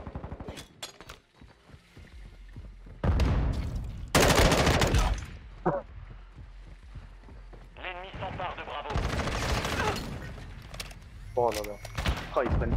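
Gunfire in the shooter Modern Warfare 2, with repeated loud bursts of automatic fire and sharp shattering impacts broken by quieter gaps, mixed with game sounds and voices talking over the shooting.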